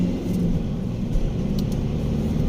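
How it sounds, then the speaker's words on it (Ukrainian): A VW Touran with the 1.9 BLS diesel drives along with its turbo working, giving a steady, loud low engine rumble throughout with faint higher road noise above it. "Турбіна зараз працює чітко."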